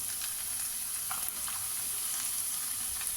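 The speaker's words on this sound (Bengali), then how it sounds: "এর মধ্যে আগে থেকে কেটে রাখা ওই চাল কুমড়ো দিয়ে সাঁতলে নেবো ভালো করে" Ash gourd frying in a pan with a hilsa fish head and spices, a continuous soft sizzle with faint stirring clicks, steady and close.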